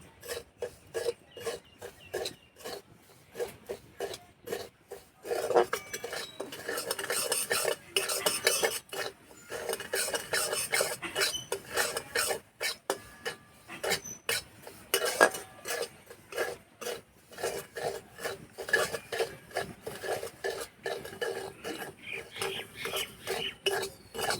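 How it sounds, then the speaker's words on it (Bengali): Semolina dry-roasted in a dry kadai for jackfruit naru, a spoon scraping and stirring steadily in quick, continuous strokes with occasional sharper clinks against the metal pan. "একটু সময় ধরে ভেজে নিতে হবে সুজিটা"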